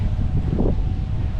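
Strong wind gusting across a trail after a typhoon, buffeting the microphone in a continuous loud rush with a brief swell of rustling in the middle.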